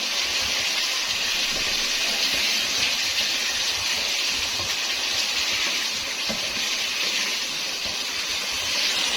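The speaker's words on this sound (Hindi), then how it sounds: "तो आलूओं को इसमें अच्छे से मैंने फ्राई कर लिया" Steady, loud sizzling hiss of cut potatoes frying in masala in a pan, continuous and even throughout with no voices.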